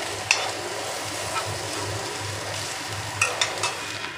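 Garlic paste fries on a medium flame for an egg curry, a steady close sizzle with occasional sharp spatula scrapes and clicks.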